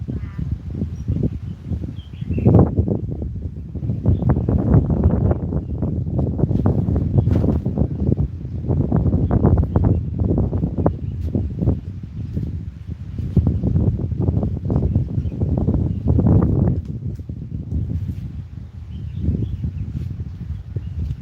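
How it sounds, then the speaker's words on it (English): Steady low rumbling wind buffeting the microphone throughout, a continuous blustery noise with gusts rising and falling. "It's a bit windy today, so I hope the audio is going to be okay."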